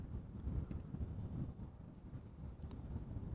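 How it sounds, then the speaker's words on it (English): Wind buffeting a microphone outdoors at Amsterdam Schiphol Airport on a warm September day, a steady low rumbling gust noise that swells and eases throughout, loud and close with no speech. "it is a good thing that there is a bit of wind"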